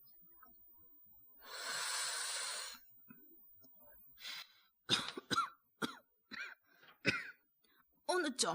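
A person coughs after smoking a beedi: one long rasping burst of cough, then a series of short, sharp hacking coughs and throat noises, close and fairly loud, with no talk.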